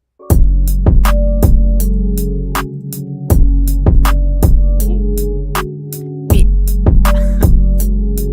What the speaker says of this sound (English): I'm going to grab a clap.